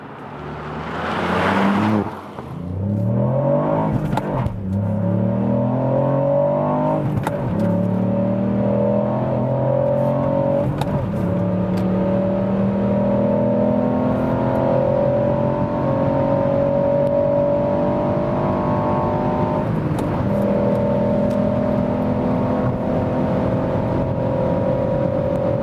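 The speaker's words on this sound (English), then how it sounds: "That's almost 200 kilometers an hour, 125 miles per hour, so impressive acceleration for such a small vehicle." A Ford Puma ST accelerating hard from a launch-control start, engine revving up through repeated gear changes with rising whine, loud and sustained from inside the car.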